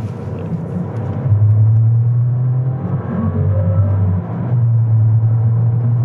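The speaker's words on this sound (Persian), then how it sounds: "خیلی صدا موتور جالبی داره، اصلا بهش نمیخوره 1 لیتری باشه" A Skoda Kamiq's small 1-litre engine revs up and down in steady pulses, a deep throaty drone rising and falling twice over several seconds, close and loud.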